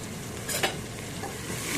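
Tomatoes and ginger garlic paste stirred in a pan for mutton liver gravy: a short, close burst of sizzling with a couple of spoon scrapes, no talking.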